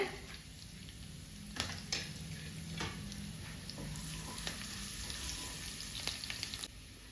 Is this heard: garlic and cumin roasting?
yes